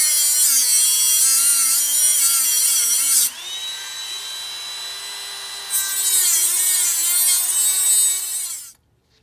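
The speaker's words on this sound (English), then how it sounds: "I'm going to Dremel a flat spade slot in there for a screwdriver and just reuse these bolts." A Dremel grinds a flat screwdriver slot into bolts during 1988 Dodge Raider transmission work. A close, high, continuous whine dips in pitch and loudness under load midway, then rises again before cutting off.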